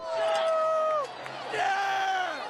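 Party crowd at Cedar Fest in the Cedar Village area of East Lansing cheers and whoops in two rising swells of shouting voices, loud and close.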